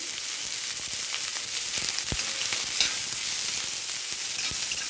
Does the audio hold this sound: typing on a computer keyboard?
no